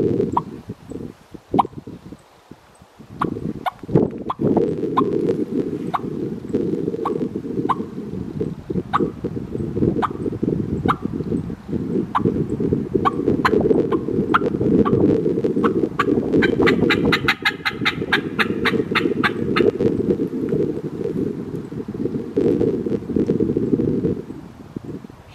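A turkey call is blown hard and repeatedly during a windy spring turkey hunt in the woods, its sharp yelps cutting through steady low wind noise, with gobbling answering in quick bursts partway through.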